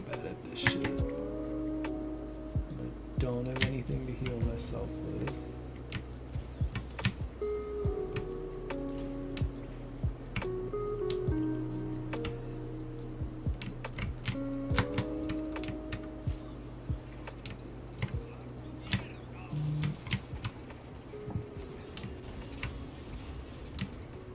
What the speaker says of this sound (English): Goddamn Josh, you were playing on a typewriter. Oh no, it's just my keyboard is hella loud.